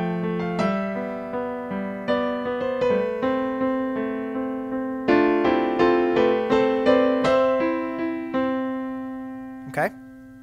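Solo piano plays a part from a song, repeated struck notes over held low tones in a steady, moderate pulse, close and clear, ending with a brief squeaky noise near the close.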